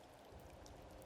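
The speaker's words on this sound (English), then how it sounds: "It's the only time faraway town has rain." Soft, steady rain patter from the rainy Faraway Town scene in the video game OMORI, quiet and continuous with a few brighter drop ticks.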